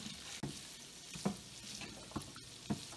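Broccoli and cauliflower in a keto sauce are stirred around a pan over just-above-medium heat, a steady low sizzle under a few soft scraping pushes of the spoon, close and fairly quiet.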